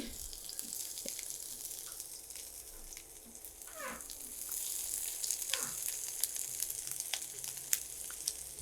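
Two cloves of chopped garlic sizzle steadily in hot oil while chicken bhorta is cooked, a continuous close hiss broken by a few soft utensil clinks and pops.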